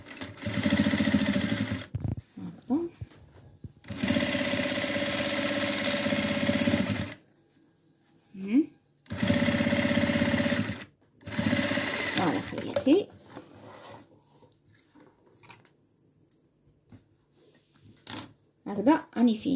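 A sewing machine stitching fabric for a small pouch about 0.5 from the edge, running in several loud, steady whirring bursts of a few seconds each, with a voice speaking in the pauses between them.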